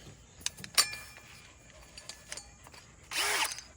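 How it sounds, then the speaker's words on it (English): A power drill with a hole saw fitted, handled in a workshop: scattered light clicks and taps, then one short, loud whir of the drill near the end. "I've got to take this hole saw off of this drill bit."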